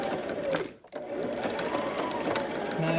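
A sewing machine runs steadily as it stitches junk journal pieces, with a close continuous mechanical whir broken by one brief pause.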